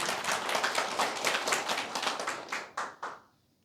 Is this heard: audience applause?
yes